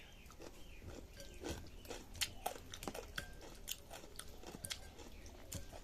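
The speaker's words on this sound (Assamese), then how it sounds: "বিট এনেকৈ চকলকৈ কাটি লৈছোঁ আৰু নিমখত দি এনেদৰে খাইছোঁ" Raw beetroot slices with salt are bitten and chewed close up, giving repeated crisp crunches in an uneven rhythm with wet chewing between them, quiet and with no talk.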